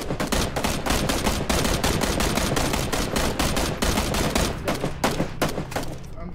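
Rapid automatic gunfire in PUBG, dense loud bursts of shots in quick succession that go on almost without a break before thinning toward the end.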